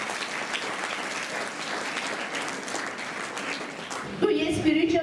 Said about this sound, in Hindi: चलो खुद के लिए तालियां बजाएंगे